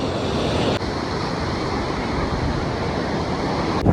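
Sea waves at Mandvi beach in Kutch, a continuous, fairly loud roar of surf that washes steadily throughout without a break, with no voices over it.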